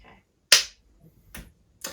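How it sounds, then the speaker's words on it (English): A single sharp hand clap rings out clearly in a quiet room, followed by two softer, shorter claps or slaps spaced apart, with near silence between them. "So I clap and then."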